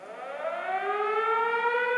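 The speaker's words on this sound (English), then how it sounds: "The air raid sirens." An air raid siren wails steadily, its rising harmonic tone swelling and holding loud for a couple of seconds with no other sounds.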